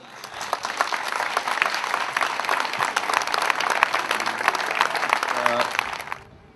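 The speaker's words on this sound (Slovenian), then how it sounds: "En aplavz za tiste heroje tam." A crowd at a public welcome ceremony for an aircraft-maker's team in a Slovenian town claps in dense, lively applause for several seconds before it stops abruptly, with some voices mixed in.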